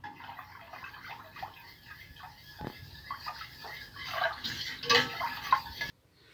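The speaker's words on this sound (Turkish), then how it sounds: "Şimdi kaynayana kadar karıştırıyoruz." A spoon scrapes and clinks against a pot on the stove as it stirs Turkish milk pudding for magnolia dessert, giving a steady run of small, close metallic taps that grow a little busier near the end, then stop.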